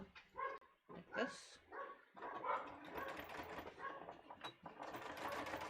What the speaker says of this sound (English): Can you hear my dogs barking?